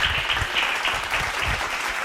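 A congregation at a Bible study meeting claps hands together in a dense, continuous burst of applause.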